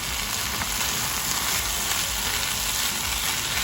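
Onions and minced garlic fry in a pan for a chicken and zucchini stir fry, giving a loud, steady, dense sizzle with no pauses and no voices.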